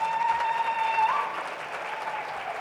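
At a trade and industry forum at Global Expo Botswana 2023, an audience claps in a soft, fairly distant wash that eases off partway through and keeps going quietly.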